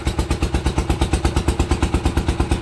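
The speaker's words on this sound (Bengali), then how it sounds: "নৌকা চালাচ্ছে বাঁকা ভাই।" A motor boat engine runs on a river leaving Patharpratima ghat, chugging in a fast, steady, even rhythm, loud and close, with no voices over it.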